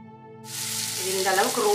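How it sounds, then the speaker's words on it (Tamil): Homemade sausages hit a hot pan for mini burgers: after a short quiet hum, a loud, dense sizzle bursts in and holds steady up close, with faint stirring near the end. "இது லைட்டாக ஃப்ரை பண்ணிக்கலாம்"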